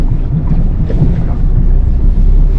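A Nissan Navara 4x4 pickup climbs out of water in four-wheel-drive low, its engine and splashing making a loud, continuous low rumble mixed with wind buffeting the microphone.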